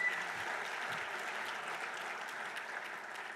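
An audience applauds at an athletics hall of fame ceremony, a dense steady wash of clapping hands from a sizeable crowd that carries evenly throughout, moderately loud and slightly distant.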